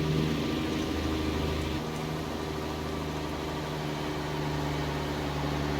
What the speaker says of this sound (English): the engine is Jerry's E6 straight pipe